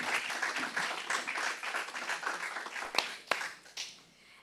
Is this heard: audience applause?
yes